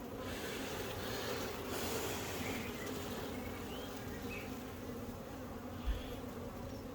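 Honeybees from an open colony hum steadily during a hive inspection while the brood frames are checked for swarm cells, a dense, continuous swarm drone with no talk.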